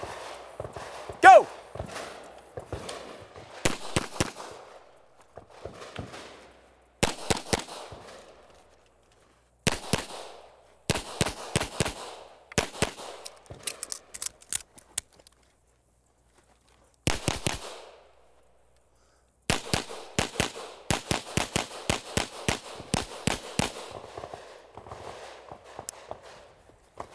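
Pistol shots ring out in rapid strings and bursts during a practical shooting competition stage, sharp and loud, separated by brief pauses, with shuffling movement between volleys.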